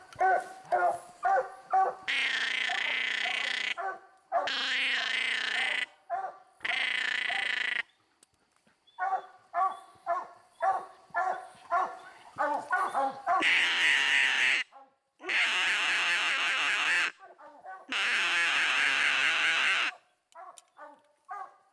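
Coonhounds bay and bark at a raccoon treed in a rough spot, with drawn-out bawling howls mixed with bursts of rapid chop barks, loud and close, trading off in a steady chorus.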